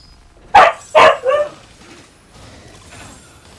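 A puppy in the online game Rift lets out three quick, loud yips close up, followed by fainter whimpering sounds and quiet game ambience.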